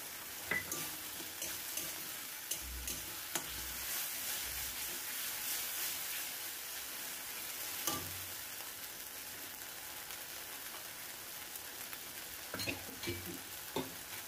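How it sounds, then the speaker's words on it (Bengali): Green peas frying with squash in a pan make a constant soft sizzle, broken by scattered scraping and knocking strokes as the pieces are stirred, with occasional low thumps from the pan. "দিয়ে একটু ভালো করে ভেজে নেব"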